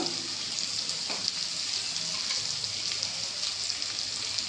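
Spices such as salt, turmeric and ground coriander frying in a pan for a fish-head murighonto, a soft steady sizzle with a faint stir or two, fairly quiet and without speech.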